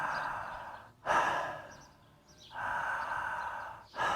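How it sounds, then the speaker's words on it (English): Slow nasal breathing drawn in and out through the nose in a calm breathing exercise, with two long soft airy breaths separated by short quiet pauses, close and alone with no talk. "this is the sound with the nose, the breathing, nose and nasal breathing sound"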